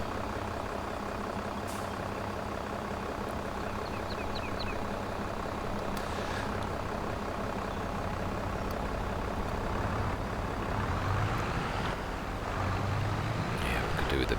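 Tractor in Farming Simulator 22 straining under a heavy load, a continuous low droning engine roar that stays steady and loud throughout, with faint clicks over it.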